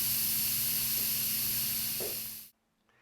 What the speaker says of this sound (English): So we're going to turn it from sealing mode to venting mode. And just let the last of that steam release itself.